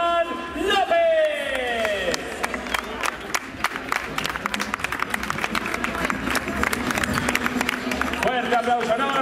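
A crowd applauds and cheers for the third-place finisher at the awards of a cross-country race in Falces. Loud, continuous clapping fills the scene, and a voice speaks over the opening before the ovation carries on.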